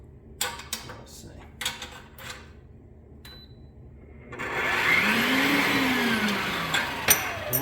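A meat grinder working through chuck beef, first with a few scattered knocks and handling clatter, then a steady loud motor whir that starts midway and keeps running to the end.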